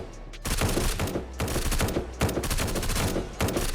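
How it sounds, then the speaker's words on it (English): Rapid automatic turret fire in the video game Surroundead rattles out in loud, close bursts of dense repeated shots, with brief gaps between volleys and no voices over the shooting. "The turret keeps shooting me!"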